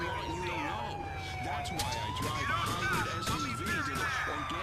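A police siren in the video game GTA IV wails in a continuous rising and falling sweep, loud and close, layered over busy in-game street noise.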